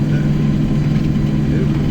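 A tractor pulling an 8-foot brush hog mower runs with a constant, loud engine drone heard up close, steady and unchanging for the whole stretch.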